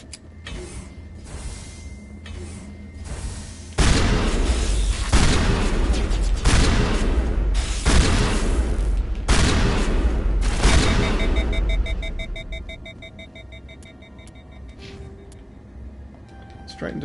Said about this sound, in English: Straight into shotguns.